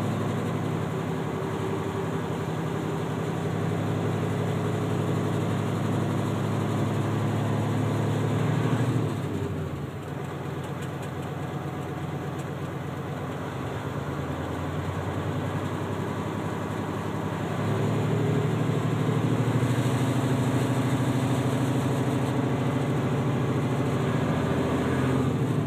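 A commercial truck's engine runs in a steady, droning idle while the air brake system builds toward 120 psi. The engine note shifts about halfway through and then rises as the revs are pushed up. No one speaks.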